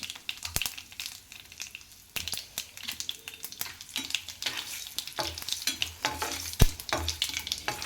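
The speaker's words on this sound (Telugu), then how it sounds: "ఒక నాలుగైదు ఎండిమిర్చి వేసుకోండి" Dried red chillies frying in hot oil for a tempering for a tamarind, coriander and tomato chutney, with a steady crackling sizzle, sharp pops and spoon stirring close by throughout.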